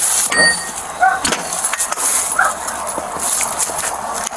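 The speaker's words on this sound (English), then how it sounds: "There's a dog." A dog barks and whimpers near a house door during a police entry, short sharp yelps scattered among metallic clinks and movement noise, fairly close and loud.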